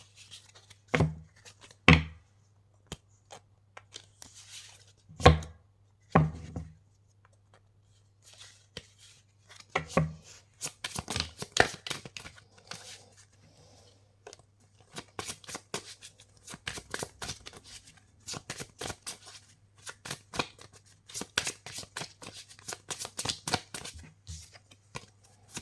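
Oracle cards shuffled by hand during a druid-themed tarot reading: several sharp riffling bursts at first, then long stretches of rapid, dense card flicking and sliding, close and fairly quiet over a low steady hum, with no talking.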